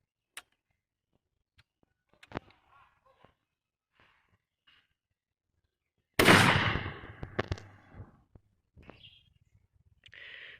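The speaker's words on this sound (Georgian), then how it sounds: "მეორე გასროლა მეგობრებო, იგივე ვაზნით." A single loud shotgun blast from a Fire SLX 800 with a half choke cracks out at a shooting range, echoing and fading over a couple of seconds, with faint clicks and small noises before it.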